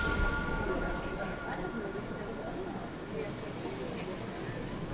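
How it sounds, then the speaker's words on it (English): A Colebrookdale Railroad train rumbles along steadily with a faint metallic whine, heard from inside a passenger car at moderate volume. "This train sure can get loud"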